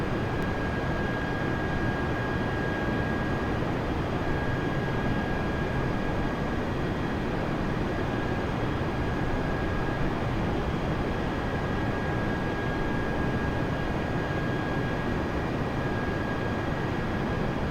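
Steady in-cabin drone of an airliner in flight in Flight Simulator 2020 between Sydney and the Gold Coast, a continuous broadband engine and air rush with a faint high whine, constant and unbroken throughout.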